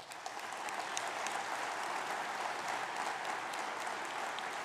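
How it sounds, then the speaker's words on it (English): Sustained, even applause from a graduation ceremony audience honouring program staff, a dense wash of many hands clapping at steady loudness throughout, with no talk over it. "Please give them all a round of applause."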